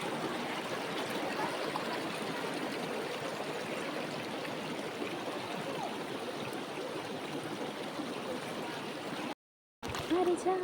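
Cold mountain stream rushing steadily near Tabakoshi, a dense continuous wash of flowing water that holds level throughout, with one brief dropout near the end.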